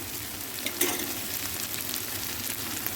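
Spices and turmeric sizzling in a hot pan for a mustard hilsa curry with raw mango, a continuous soft frying hiss with a brief stir or clink near the start, no talking.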